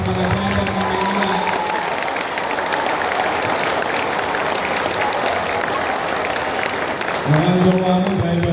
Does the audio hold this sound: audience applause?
yes